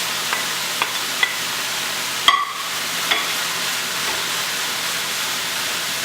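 Shredded spaghetti squash frying in a pan makes a steady soft sizzling hiss, with a few light utensil scrapes and one louder clatter as it is stirred, no talking.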